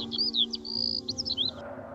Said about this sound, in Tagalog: Wala masyadong ingay, kundi ang ihip ng hangin at huni ng mga ibon.